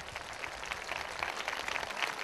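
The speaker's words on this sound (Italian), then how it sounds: "quello che voglio sentire adesso è il vostro applauso" An audience applauds at an outdoor Latin American dance and rhythmic gymnastics recital, a steady, moderately faint patter of many hands clapping with no voices.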